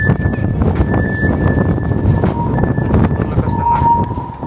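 Strong wind buffets the microphone at the 91st-floor outdoor viewpoint of Taipei 101, a loud, steady rushing roar that runs throughout with a faint tonal hum over it.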